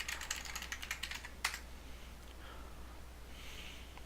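Quick, light computer keyboard clicks tap out a short password sequence, then stop, leaving a faint quiet room with soft breathing.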